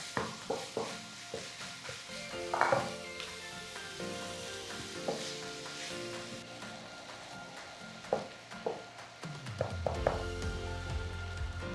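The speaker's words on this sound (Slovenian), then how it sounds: "meso sem prepražila, vidite, da je brez grudic, seveda ga je pa treba vedno mešati" Minced meat sizzles quietly in a pan while a utensil repeatedly scrapes and taps against it during stirring, the sounds irregular and fairly close.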